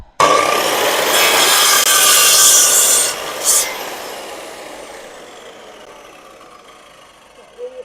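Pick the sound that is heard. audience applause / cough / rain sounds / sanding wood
sanding wood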